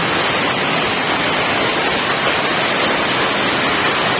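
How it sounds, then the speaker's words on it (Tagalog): Heavy rain pounds a corrugated metal roof in a steady, loud, hissing roar with no pauses, filling the space evenly throughout. "Naabutan na kami ng lakas na ulan."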